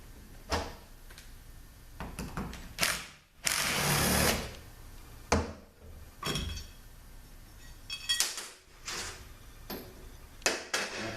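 A bolt is unscrewed from a 62TE transmission valve body during a rebuild, giving close metallic clicks, ratchet bursts and clinks scattered over the clip, with one longer louder rasp near the start.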